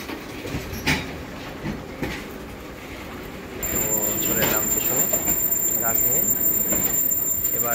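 A train at Rajbari railway station, a broad rumbling rail noise that swells and grows steadier partway through, with faint clatter and voices underneath.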